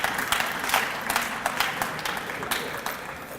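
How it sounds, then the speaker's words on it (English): Student athletes at a school athletics awards banquet applaud their coaches with sustained, dense clapping that holds steady at moderate loudness through the whole stretch, with no one speaking over it. "I'd ask all the student athletes to give your coaches a round of applause"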